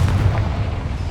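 A Confringo blasting spell bursts inside a small mine in Hogwarts Legacy, giving a loud, deep, rumbling boom that holds steady for about a second with no voices.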